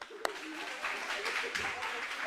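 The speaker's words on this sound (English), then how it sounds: "Let's give them another round of applause." Audience applause at a fall educational conference, a steady, diffuse wash of many hands clapping heard from a moderate distance, with one sharp clap standing out near the start and faint voices mixed into the crowd noise.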